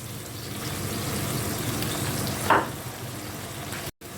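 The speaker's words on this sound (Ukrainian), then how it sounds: "додаємо сюди водичку" Water poured into a pan of frying chicken liver with pear brings a steady sizzle, with one brief louder splash midway.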